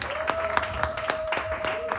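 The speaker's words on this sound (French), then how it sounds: "Acclamons pour Jésus bien-aimé" A church congregation claps in a steady, even rhythm for Jesus during worship, sharp claps repeating about four times a second over a sustained held tone.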